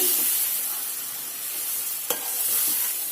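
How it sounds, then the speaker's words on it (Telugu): A chicken curry mixture fries in oil in a pan with a steady, dense sizzle and hiss, close and even throughout, with one sharp utensil tap near the end. "ఒక రెండు నిమిషాలు ఇది నూనెలో కొంచెం వేగనివ్వండి"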